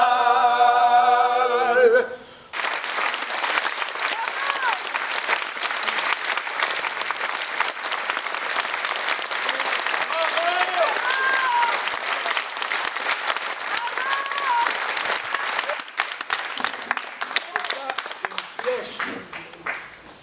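A theatre audience breaks into long, dense applause that stays loud and steady for most of the stretch before thinning toward the end, after a voice speaks at the start.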